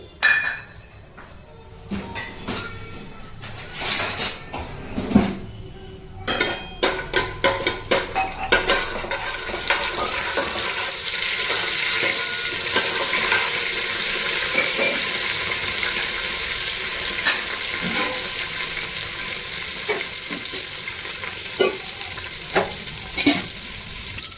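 Onions sizzle in hot oil with whole biryani spices in a pan, opening with clinks of a spoon against the pan and a few sharp pops, then settling into a steady close frying hiss with occasional stirring scrapes.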